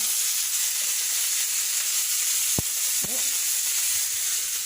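Cumin seeds crackle and sizzle loudly in hot oil, a dense continuous hiss with a couple of brief pops near the end, no voices.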